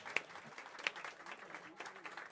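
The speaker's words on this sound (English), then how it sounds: "Josh Baldwin, everybody. Just clap." Audience applause at a live club show celebrating a venue's birthday, soft and diffuse crowd clapping with a couple of sharper claps and faint voices mixed in underneath.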